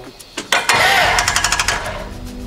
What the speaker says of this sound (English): We're about to start the engine for the first time after a year.